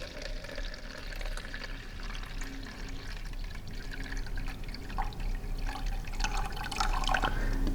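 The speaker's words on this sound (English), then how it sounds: "my nutrients is pre-mixed, and I'm just gonna add it right to that line." Pre-mixed nutrient solution poured into a line of a small office hydroponic system, a steady close trickle and drip of liquid with faint splashing, louder toward the end, without talking.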